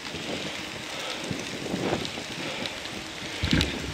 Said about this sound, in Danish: har vi en dejlig blæsende regnvejrsdag her